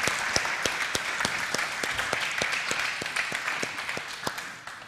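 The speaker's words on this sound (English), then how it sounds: "Ed a round of applause" Steady applause from an audience welcoming artist Ed Ruscha at an artist talk, a dense wash of many hands with crisp nearby claps standing out, tapering slightly toward the end.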